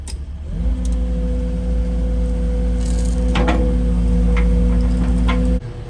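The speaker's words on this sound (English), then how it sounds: "start the tractor up" A tractor engine starts at a seawall replacement site and settles into a loud, steady low idle with a constant hum, broken by a few brief clanks and ticks, then cuts off abruptly near the end.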